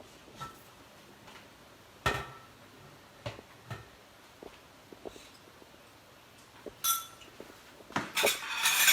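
A big metal spoon clinking against a cooking pot while salt is added, a scatter of sharp separate taps and clanks at irregular intervals, with louder rattling toward the end.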